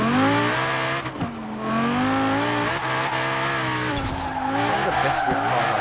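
An Audi R8 5.2 FSI Quattro in Forza Horizon 4 revs hard with a loud, shifting engine whine while tires squeal in a drift, continuous and close throughout.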